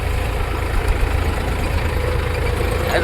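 A brand-new tractor engine runs steadily in a rain-soaked field, giving a continuous, close, low rumble that does not rev or change throughout.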